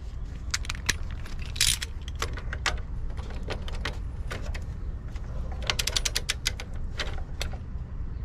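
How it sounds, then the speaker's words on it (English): Repeated metallic clicks and ratcheting from a Harbor Freight torque wrench tightening main breaker lugs in an electrical panel, set to 12 inch-pounds; sharp, close clicks in irregular bursts with no talking. "So I'm gonna torque this to 12 inch pounds also."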